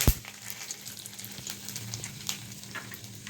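Whole spices, among them black pepper, cloves, cardamom, cinnamon, bay leaf and white cumin, crackle and sizzle softly in hot oil for tempering in a pan, a close and steady hiss broken by scattered pops.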